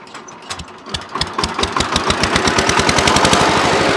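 A VST 130 DI power tiller's diesel engine cranks with uneven thumps, then catches and settles into a fast, loud, rhythmic chugging that holds steady.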